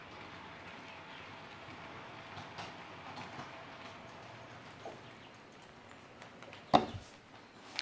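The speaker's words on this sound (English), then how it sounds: "So now as the train chugs from Laurenvale, it heads up the hill" A model train runs along its track on a layout, a faint, steady rolling hum with light clicks, and one sharp louder knock near the end.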